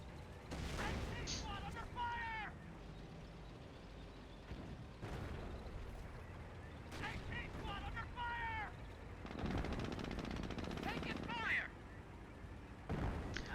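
Mortar impacts and gunfire in a war video game, with repeated sharp blasts and crackling shots at intervals. Bursts of whistling shells are scattered between them, and someone talks over the battle noise.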